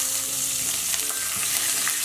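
Curry leaves and green chili sizzle in hot oil with split lentils in a pan for tomato vermicelli bath, a dense close crackling spatter that stays loud and steady with a few sharper pops, no voices.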